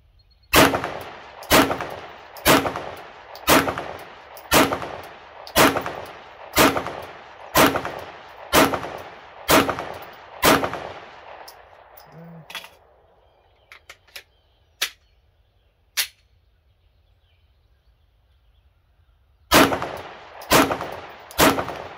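Glock pistol fired in a steady string of about ten loud sharp shots roughly one per second, followed by a pause with a few clicks and handling sounds, then two more shots.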